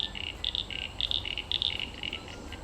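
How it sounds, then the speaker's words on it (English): A chorus of at least six frog species calling with repeated high, chirping trills that overlap in quick bursts, steady and fairly close, with no voices, in Australian floods. "I can hear at least 6 different types of frogs in there."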